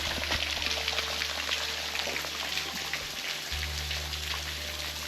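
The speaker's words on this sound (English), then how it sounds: "I heard some water trickling" Water trickling over two little falls in the wilderness on a backpacking trip, a steady broadband splashing and patter that stays close and continuous without any talk.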